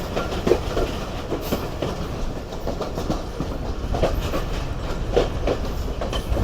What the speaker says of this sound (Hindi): तो ये शाहजहाबाग जंक्शन पर अप्रोच बना रही है ट्रेन।